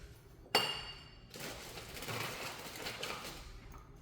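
A drinking glass is taken out and clinks sharply once up close. Softer rattling and handling noises follow over a faint kitchen background, and no one speaks.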